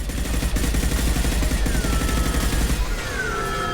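Rapid automatic gunfire in Mass Effect 2 (Legendary Edition), a dense steady burst of shots for about three seconds before a rising sci-fi whine takes over, loud and close with no talk.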